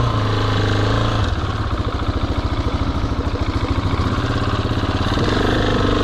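A carbureted, choked motorcycle engine is held on heavy throttle to start and then settles into a loud, close idle with a rapid, pulsing, uneven throb. There is no speech.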